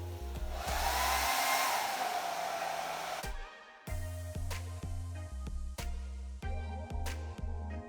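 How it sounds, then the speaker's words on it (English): A hair dryer blows hot air onto a 3M adhesive sticker for a helmet chin mount, a steady close whooshing whir that is cut off and restarts several times in short bursts. "You need any heat gun or a hair dryer."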